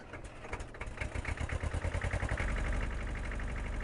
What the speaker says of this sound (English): I love the sound of old tractors.